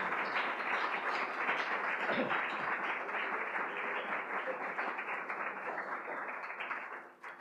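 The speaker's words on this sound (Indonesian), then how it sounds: "Kita berikan tepuk tangan untuk para bapak-bapak." Church congregation standing to applaud the fathers at a Father's Day service, a broad, even sheet of many hands clapping, heard at a distance and tapering off near the end.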